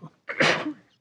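A single sharp human sneeze, fairly close and loud, bursting out during a quiet moment at a municipal parks and recreation commission meeting.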